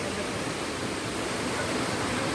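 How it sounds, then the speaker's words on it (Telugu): Dalasari Waterfall in the forested hills of Mandasa, Srikakulam, gives off a dense, steady roar of falling water, loud and unbroken. "కింద ఉంది వాటర్ ఫాల్స్ మొత్తం కూడా"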